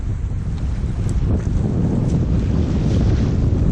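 Strong wind buffets the microphone at a lake during twilight fishing, a loud, continuous low roar with gusting rumble and no speech.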